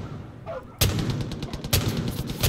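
Gunfire in the video game Far Cry 5, with a dense burst of rapid shots that starts suddenly after a quiet moment and goes on loudly for a couple of seconds.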